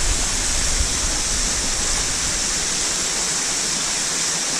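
A waterfall at McConnells Mill State Park, dropping roughly 30 feet onto rocks, roars as a steady, dense, loud rush of falling water with no breaks.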